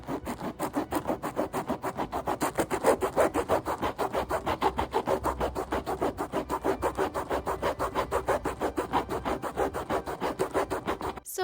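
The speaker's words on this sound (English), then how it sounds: "And then I carved a bunch of divots so that I could reinforce the spine with a bunch of string" Someone carves divots into a book spine with a tool while rebinding a copy of The Princess Bride, giving a fast, even, rhythmic scraping and rasping that repeats steadily for several seconds, close and loud.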